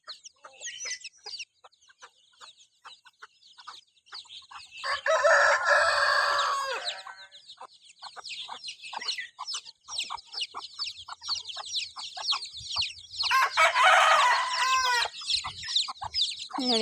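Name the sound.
hen and chicks clucking outdoors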